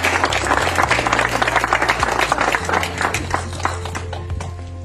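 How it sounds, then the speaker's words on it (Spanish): A crowd at a community event for a church restoration breaks into strong applause for the municipal president, a loud, dense patter of many hands that thins slightly toward the end, with a low hum running beneath. "Fuerte el aplauso."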